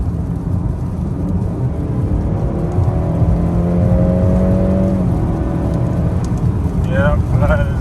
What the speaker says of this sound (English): I'm just trying to slow down here and then kind of floor it a little bit